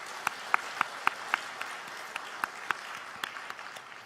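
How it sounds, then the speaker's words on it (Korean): A congregation at an early-morning church worship service claps in welcome for the children attending. The clapping is light and scattered, with a few sharp, evenly spaced claps standing out above the rest. "우리 자녀들 축복하면서 환영의 박수 같이 하도록 하겠습니다"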